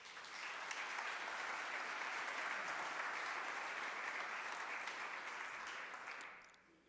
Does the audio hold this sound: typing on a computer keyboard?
no